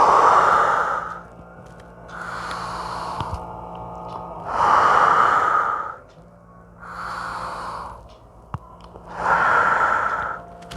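Slow, deep breaths drawn in during an upper-chest lung expansion exercise for Covid recovery, close and clear, five long breathing sounds separated by quiet pauses, with no talking.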